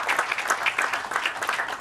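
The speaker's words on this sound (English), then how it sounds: "great round of applause for all of you." An audience at a BITOSA alumni inaugural event in Pune claps, a brief dense burst of hand-clapping from a moderate-sized crowd, steady and fairly close with no talk.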